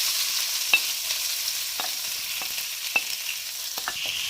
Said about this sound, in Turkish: Evet mor lahanamı koyuyorum.